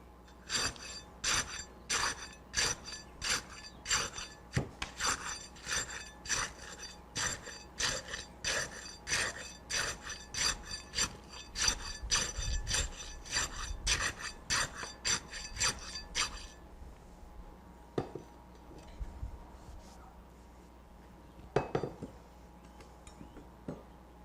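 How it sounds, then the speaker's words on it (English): Steel tamping rod repeatedly striking down into fresh concrete in a cylinder mold, a steady series of about two dozen sharp, close taps that stops partway, followed by a few scattered knocks. "I'm going to rod this 3rd layer and penetrate the underlying layer slightly"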